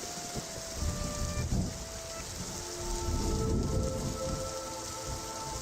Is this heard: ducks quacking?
no